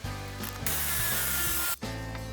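A cordless drill with a stepped bit bores a hole through a converted school bus door, whining steadily, briefly cutting out and shifting pitch, then starting up again, close up with no talk.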